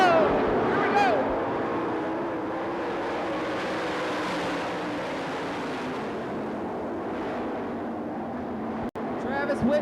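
Sprint cars run a heat race on a dirt track at the 1997 Knoxville Nationals, with a continuous loud, roaring engine drone that rises and falls in pitch as the field passes, then cuts off sharply near the end.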